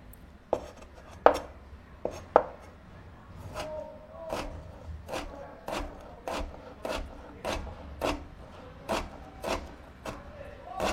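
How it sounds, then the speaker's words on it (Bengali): Knife chopping through thinly sliced potatoes on a board for fried potatoes, a steady run of crisp, evenly spaced cuts close up, a few sharper knocks at first, with no talking. "একদম চিকন চিকন করে কেটে নিচ্ছি।"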